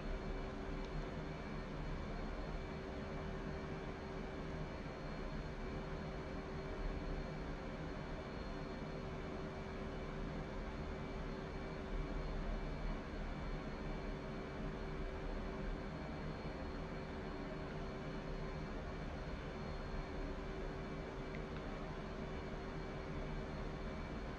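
Steady, continuous drone of an aircraft engine in flight, a constant broadband roar with a fixed tonal hum, loud and unbroken throughout with no voices.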